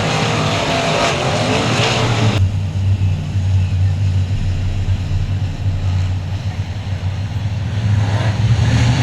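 Race cars at Cotton Bowl Speedway roar away at the green flag, a loud burst of engines giving way to a dense, sustained low rumble of accelerating cars close by.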